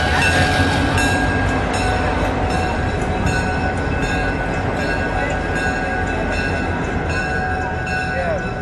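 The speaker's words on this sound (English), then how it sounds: "Pulling into the reviewing area now is the Illinois Terminal 1605." Illinois Terminal 1605 diesel locomotive rolls into a display area at a railway museum diesel parade, a loud, steady rumble with wheel noise and a faint tonal whine held throughout, close by.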